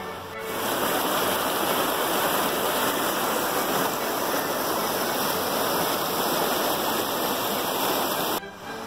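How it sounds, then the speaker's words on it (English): A steady, loud rush of a terraced waterfall roars continuously, broadband and unbroken, from start to finish. "this waterfall behind me is usually my first stop"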